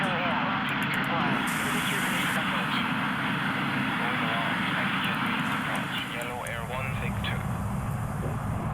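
Airliner jet engines roar steadily in I Am An Air Traffic Controller 4 as a plane powers up for a go-around, a loud continuous rumble while someone talks over it.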